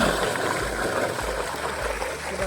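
Water from an electric motor pump gushes into a channel irrigating a groundnut field, a continuous close rushing, gurgling flow with a low rumble underneath, no voices.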